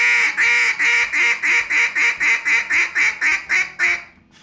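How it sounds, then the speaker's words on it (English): Duck hail call blown on a handheld duck call: a loud, close run of about thirteen evenly spaced nasal quacks that taper off at the end. "If you're hunting and you see ducks at a great distance and you're going to hit them with a hail call"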